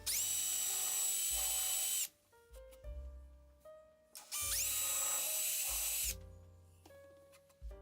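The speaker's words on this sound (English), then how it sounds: "I'm going to drill down some pilot holes ready for the spikes" Power drill boring pilot holes for furniture pad spikes, two loud sustained whirring bursts of about two seconds each, separated by quieter clattering handling sounds.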